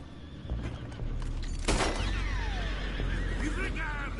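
A horse whinnies in a Western video game, a strong neigh rising near the middle of a busy game scene with hooves and background noise and people talking over it.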